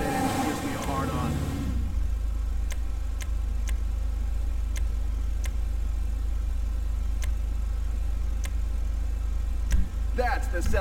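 A Jeep Wrangler Rubicon in GTA V idles with a steady, deep low rumble that holds evenly throughout, with faint periodic ticks over it and brief clicks at the start and end.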